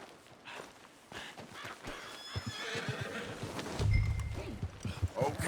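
A horse neighs and whinnies in Red Dead Redemption 2, with hoof clip-clops and scattered movement around it, the loud whinny peaking near the end of the short stretch.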